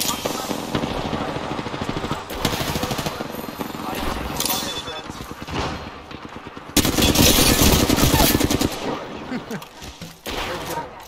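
Rapid automatic gunfire rattles in Apex Legends, with dense bursts and volleys, a louder stretch of sustained shooting midway, and a voice talking over the combat.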